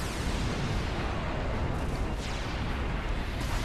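Mega Flare overdrive attack explosion in the Final Fantasy X video game, a continuous, dense roaring rumble of blasts sustained at steady loudness from start to finish, with no talk.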